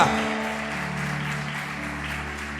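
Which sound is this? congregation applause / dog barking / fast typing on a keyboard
congregation applause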